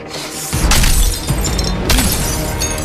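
Mirror glass smashing in a fight, a heavy crash at about half a second followed by a dense spray of shattering shards and a second loud burst near two seconds, close and loud throughout.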